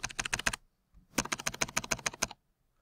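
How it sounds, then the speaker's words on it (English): Keys pressed on a computer keyboard to enter the Control T shortcut, two close bursts of rapid crisp clicks separated by a short pause. "we're going to hit Control T"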